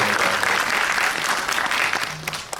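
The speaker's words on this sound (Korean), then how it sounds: "네, 박수." Audience applause at a film talk event in a Megabox cinema in Sinchon, Seoul, with the director and actors present. Dense, steady clapping from a full house fills the whole stretch at close range, with a faint voice briefly audible near the end.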